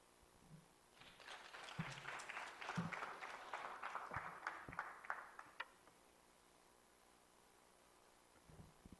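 A conference audience gives a round of applause, a faint, distant patter of many hands lasting about five seconds before fading to quiet room tone.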